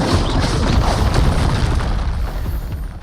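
A Confringo explosion spell erupts in Hogwarts Legacy with a loud, rumbling boom that swells quickly and then slowly fades over about three seconds.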